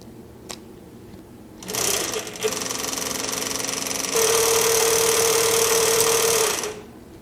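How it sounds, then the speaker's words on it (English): A Juki LU-1508 walking foot sewing machine whirs up to speed winding a bobbin, holding a loud, steady mechanical buzz that rises in pitch partway through before cutting off. "I'd like to wind a tad more thread on that bobbin"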